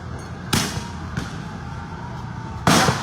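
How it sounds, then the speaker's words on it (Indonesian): Tear gas launchers fired by police at a riot under a flyover in Slipi, West Jakarta, giving two sharp, loud bangs a couple of seconds apart over steady crowd and street noise. "polisi langsung menembakkan gas air mata"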